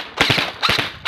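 An LT01 Gen2 airsoft rifle fires two short full-auto bursts at close range, each a quick rattle of sharp, snappy shots separated by a brief pause, with a third burst just starting at the end.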